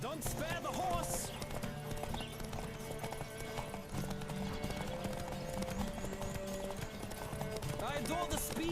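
Hooves of a galloping horse in The Witcher 3 clip-clop steadily under continuous speech, with an occasional whinny rising above the rhythm.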